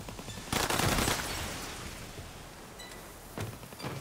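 Gunfire from the video game Call of Duty WW2, heard as a loud burst of rapid shots followed by a fading rumble, then a second shorter burst near the end; no voices over it.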